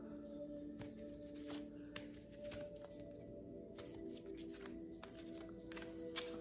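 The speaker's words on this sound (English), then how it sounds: "I'm gonna shuffle these cards again" A deck of cards is shuffled by hand in a quiet room, with repeated rapid riffles and soft slaps of cards coming in quick bursts.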